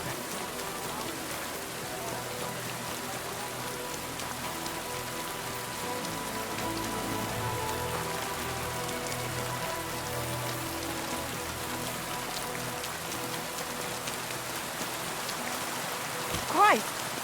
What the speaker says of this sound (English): Don't mind the rain.